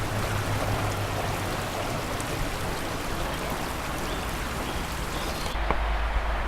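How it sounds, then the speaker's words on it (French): A river flowing outdoors, a steady broadband rush of water close to the recorder that continues without pause, then turns duller and lower near the end, no voices. "Prise de son de la rivière."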